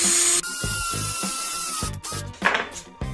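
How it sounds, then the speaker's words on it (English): A hand drill bores a near-90-degree hole into a piece of wood, the bit resting in a notched scrap guide: a sharp high whine at first, then a steady motor tone broken by quick knocks and taps. "If you don't have a drill press and just a hand drill, and you wanted to drill a really close to 90-degree angle hole in a piece of wood"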